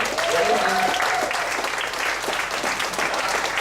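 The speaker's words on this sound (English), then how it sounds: "One more round of applause for him." Sustained audience applause at a stand-up comedy show in Ubud, Bali, loud and dense throughout, with faint voices and a brief tonal sound early on.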